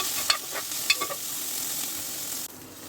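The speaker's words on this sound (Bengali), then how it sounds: "ভালো করে আমি একটু নেড়ে চেড়ে পেঁয়াজটা ভেজে নেব" Sliced onion with a little chili paste fries in a pan, a steady hiss of sizzling oil with a few light scraping and tapping strokes of a spatula early on, heard close and without speech.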